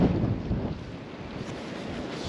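Steady wind roars and buffets across open water from a moving boat on a fishing trip, loud and close, with no voices.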